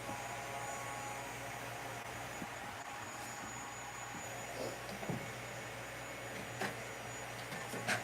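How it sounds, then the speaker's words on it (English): An electric die cutting machine runs while cutting a sunshine shape from yellow cardstock, giving a steady, quiet motor hum with a few faint clicks and no talk. "we're going to die cut sunshine from here"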